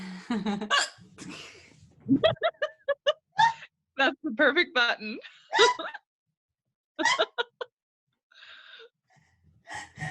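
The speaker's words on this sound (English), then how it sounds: "Now we can't tell if you're laughing or hiccuping." Sharp, abrupt hiccups from a woman break through close conversational talk and laughter in a studio setting, several spasms scattered across the span with short quiet gaps between them.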